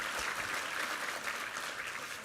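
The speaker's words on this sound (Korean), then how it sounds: "우리 하나님께 감사와 영광의 박수 올려드리겠습니다." Congregation applauding together during a Sunday church service, a dense, steady wash of clapping that holds at an even level throughout without a break.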